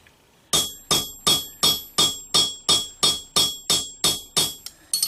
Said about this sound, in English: you just want to strike one pin at a time until you start to mushroom that head a little bit